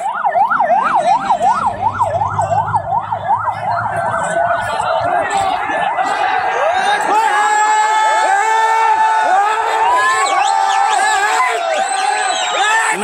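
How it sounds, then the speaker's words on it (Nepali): An ambulance siren wails in a fast rising-and-falling pattern at a fierce monarchist protest, loud for the first few seconds before a dense crowd roar with shouting voices takes over. "शब्द हानी गाइज हेर्नु शब्द हान्छ एम्बुलेन्स"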